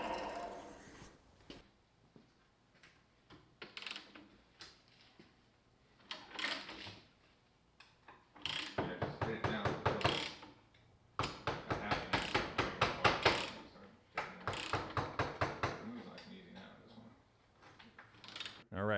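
NPT pipe threads being cut with a tap into a freshly drilled hole on a V8-swapped Porsche 911 project produce repeated ratcheting clicks in rhythmic bursts. Pauses separate the bursts, and a voice is briefly heard.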